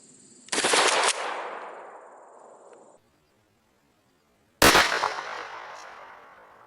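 Two loud, close shotgun blasts from a Kel-Tec KSG 12 firing 00 buckshot through a .69 choke at an outdoor range, about four seconds apart, each with a sharp crack and a decaying echo.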